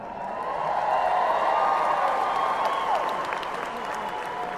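Applause fills a hall before a concert at the NAMM Show. A crowd claps loudly and steadily, swelling and then easing off slightly toward the end.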